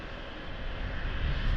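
TAP Airbus A320 arriving from Brussels on approach to land at Lisbon airport, a steady broadband engine roar that swells gradually louder as it nears, with no talking.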